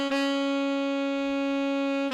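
A Nexus saxophone preset plays with all effects switched off: one steady, sustained synthetic sax note, held loud and alone for about two seconds with a rich stack of bright overtones.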